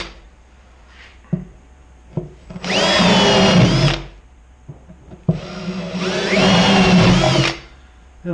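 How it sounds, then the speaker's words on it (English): A power drill with a 1/2 inch bit bores holes through the wood of a Layens beehive in two loud whirring bursts of about a second and a half each, separated by quiet handling clicks. "using our 1/2 inch drill bit to go ahead and put a hole down through"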